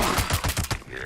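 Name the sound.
gunfire from video game Fallout 76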